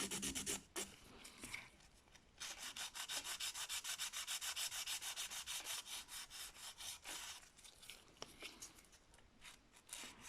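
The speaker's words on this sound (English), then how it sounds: "I will start filing with file 180." A 180 grit file scrapes rapidly over a PowerGel nail during shaping, producing close, rhythmic rasping strokes in steady bursts with a few short pauses.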